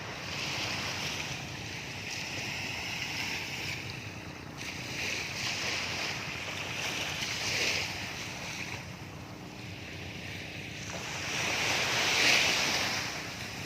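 Ocean waves roll steadily onto a beach in Zambales, a continuous broad wash of surf with gentle swells in intensity, mixed with wind rumble across the microphone and no talking.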